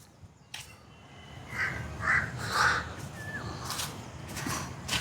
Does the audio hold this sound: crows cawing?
yes